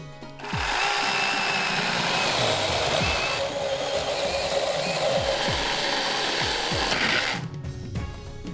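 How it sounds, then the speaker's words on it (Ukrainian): Small electric chainsaw cutting through logs to open a window in a round treehouse, a continuous loud whining buzz lasting several seconds, starting and stopping cleanly. "Перепилюємо колоди по лініях за допомогою невеликої електропили."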